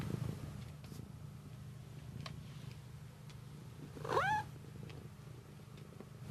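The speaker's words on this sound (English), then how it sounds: "Yes, it's Maud the Skeptic Zone cat." Maud, a domestic cat, purring steadily and close up, with one short rising meow partway through, the low rumble continuing underneath.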